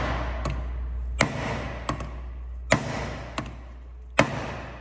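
A hammer strikes a nut threaded onto a car's stub axle, five sharp metallic whacks spaced irregularly over a low steady hum, close and fairly loud.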